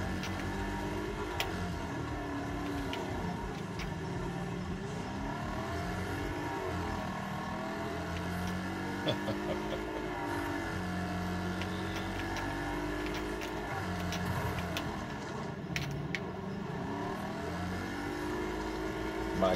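A car engine revs and races in a Nintendo Switch racing game, with a continuous loud roar and shifting pitch as the car struggles toward the finish, and a player occasionally talks over it.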